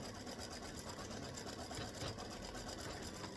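An embroidery machine stitches free-standing lace bee earrings, giving a steady, fast mechanical whir and needle chatter that runs without pause, close and even in level.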